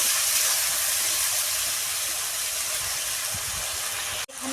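Water poured into a pan of frying spices, turmeric and chili powder, while cooking a vegetarian banana flower dish, making a loud, steady sizzling hiss that holds for several seconds before a brief clatter near the end.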